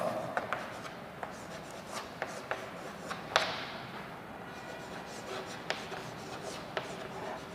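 Scratchy writing strokes on a board, with irregular taps and rubs coming close and fairly soft, trailing into quieter shuffling.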